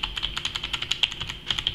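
Typing on an aJazz WolfTeam K701 gaming keyboard, a rapid run of crisp, close key clicks and clacks in an uneven rhythm, heard alone with no talk.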